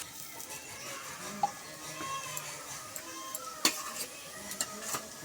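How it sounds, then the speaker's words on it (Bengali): Lentil dumplings (bori) frying in oil in a wok, a quiet steady sizzle with light scattered clinks and stirring taps, faint and close. "তেল দিয়ে দেওয়া হয়েছে, বড়ি দেওয়া হয়েছে কড়ায়। বড়িগুলো লাল লাল করে ভেজে নেওয়া হচ্ছে।"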